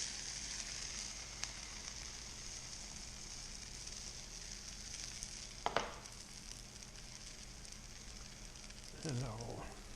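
Eggs mixed with a little milk sizzle in a small warm skillet, a steady soft frying hiss throughout, with a brief clatter midway and some utensil scraping near the end.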